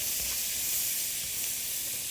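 Peas and other vegetables sizzle in a hot pan for shrimp fried rice in a Bangladeshi home kitchen, a close, continuous, bright frying hiss with no voices over it.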